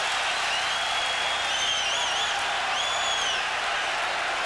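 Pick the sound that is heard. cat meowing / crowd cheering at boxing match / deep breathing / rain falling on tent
crowd cheering at boxing match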